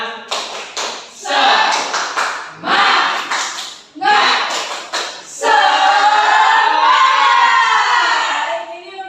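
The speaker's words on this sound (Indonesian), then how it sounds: "Tepuk semangat" A fourth-grade class performs the 'tepuk semangat' spirit clap: short bursts of rhythmic group clapping interleaved with chanted voices, ending in a sustained burst of children's shouting and cheering.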